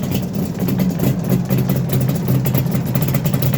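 A Suzuki GT750 classic motorcycle engine idles steadily and loudly up close, a constant even rumble with no breaks.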